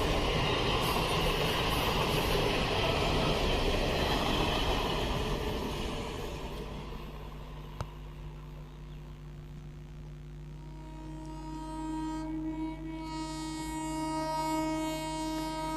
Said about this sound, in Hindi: ये लंबी ट्रेन है।